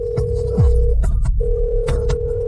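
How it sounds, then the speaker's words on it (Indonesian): Telephone ringback tone during a phone call, steady repeated electronic rings broken by a short gap, loud and close with no talking over it. "Telepon Bapak Cross."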